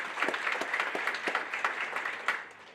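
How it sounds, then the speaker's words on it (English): A ceremony audience bursts into a sustained round of applause at an SLP white coat ceremony, dense overlapping claps filling the room evenly for a few seconds and easing slightly at the end. "Please join me in a round of applause"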